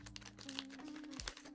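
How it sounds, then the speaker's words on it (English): Resealable plastic bags crinkle and rustle up close in a brief, soft burst of crackling, with a faint hum underneath. "resealable bags."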